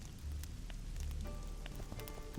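Rain in the video game The Witcher 2 falls as a steady, dense patter on surfaces, with scattered brighter droplet ticks over a low wash of noise.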